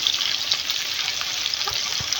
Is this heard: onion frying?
yes